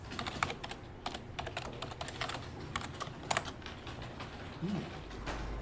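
Someone types a new password on a computer keyboard, a steady run of quick close key clicks with a few harder taps, no talk over it.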